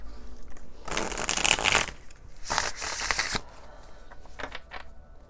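Tarot cards being shuffled by hand in two bursts of riffling and sliding, close and fairly quiet, with softer handling taps afterward and no talking.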